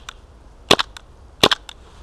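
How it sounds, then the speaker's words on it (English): A KWA MK23 SOCOM gas blowback airsoft pistol fires in snowy cold of about -1 degrees, barely cycling and not feeding BBs. Two sharp, close pops arrive about a second apart, each followed by a weak clack of the slide. "KWA Mark 23 Socom pistol. Doesn't do that well in the cold, but it is a gas gun."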